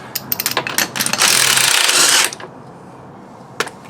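A bolt being tightened during a Yamalink install on a Yamaha WR250 motorcycle, with quick ratcheting clicks building into a steady loud whir of about a second, then a pause and one last click, close up with no talk.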